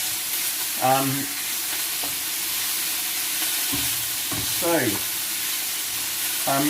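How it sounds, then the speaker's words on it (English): Marinated pork being stir fried in a hot pan gives a steady close sizzle throughout, with a few short scraping stirs and faint voiced sounds over it. "So we then stir this pork for 4 minutes"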